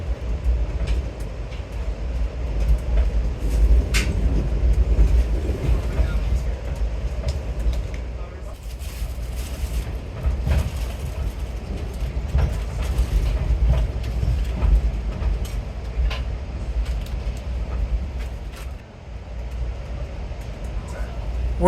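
Coal trains and the Zephyr passenger train rolling along a Colorado line near Rifle, a steady broad rumble of wheels on rails with rhythmic clicks throughout, loud and continuous.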